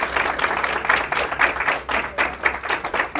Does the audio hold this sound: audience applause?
yes